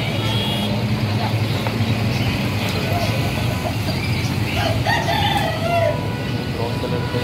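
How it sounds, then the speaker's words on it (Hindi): A desi rooster crows among hens at a busy bird market, clucking and calling over a steady din of chatter and passing vehicles, with people talking nearby throughout. "मुर्गा देसी मुर्गा है, अलग अलग मुर्गी है"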